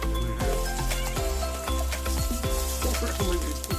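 Garlic, onion and ginger sizzle in hot cooking oil, a dense, steady frying hiss up close, punctuated by frequent clinks and scrapes of a utensil stirring the pan, with music or a tone running underneath and no talk.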